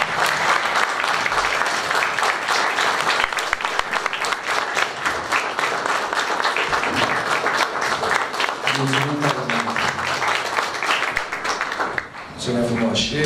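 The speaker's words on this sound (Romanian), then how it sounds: "aș vrea să-l aplaudăm pe domnul Alboaie pentru toată activitatea care a desfășurat-o" An audience at a solemn Romanian town council inauguration ceremony applauds steadily and loudly, with dense clapping that runs throughout while a voice speaks over it near the end.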